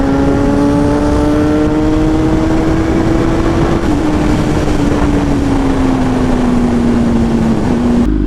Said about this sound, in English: That cross traffic.